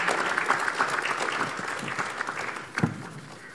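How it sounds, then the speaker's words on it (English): Audience applause welcoming a speaker at a capital-market seminar in Takoradi, a steady wash of many hands clapping at moderate distance, tapering slightly near the end. "Please let's invite him with a hand of applause"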